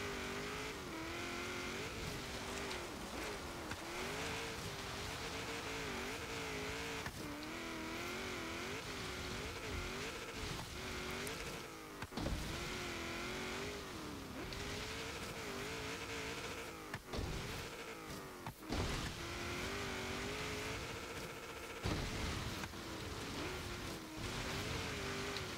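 A 1997 Nissan Skyline GT-R V-Spec driven off-road in Forza Horizon 3, its engine droning and shifting pitch steadily throughout, with brief dips and surges as it struggles for speed, loud and continuous with no talk.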